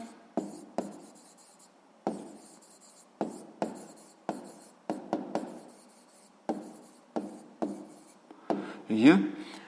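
Pen on paper writes out a math answer by hand in short bursts of scratchy strokes with pauses between them, close and fairly quiet, with a voice briefly at the end.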